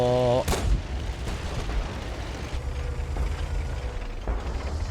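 In the World of Tanks video game, a tank cannon fires once near the start with a sharp, heavy boom, followed by a continuous rumbling engine drone and faint mechanical creaks.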